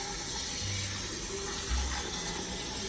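Water runs steadily from a tap into a pan of meat for pozole, a constant rushing splash with no pauses, fairly close.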